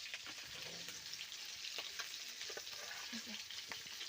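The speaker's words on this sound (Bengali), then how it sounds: "এই যে কড়াইতে সবে মাছগুলো ভাজা বসিয়েছি" Fish frying in oil in a wok, a faint, steady crackling sizzle with occasional light pops and stirring, no talking over it.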